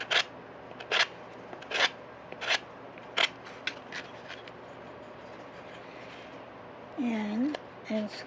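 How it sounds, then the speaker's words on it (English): A wooden block scrapes down a painted wood cutting board for a rustic plaque craft, giving about eight short, distinct strokes spaced through the clip, with a brief voice near the end. "I'm just scraping down."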